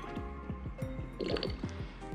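Glycerin is poured from its bottle into another bottle, producing a quiet series of rhythmic glugs whose pitch rises as the container fills.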